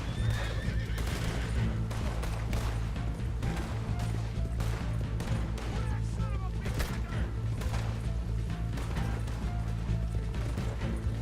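Cheetah the horse in Red Dead Redemption 2 gallops with steady clip-clopping hooves and lets out loud neighs and whinnies, set over a dense, continuous game soundscape.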